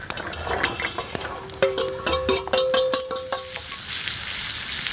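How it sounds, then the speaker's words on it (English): Food sizzles and crackles in a hot pan, with a few metallic clinks of a utensil against the pan partway through. "I can't hear it with that sizzling."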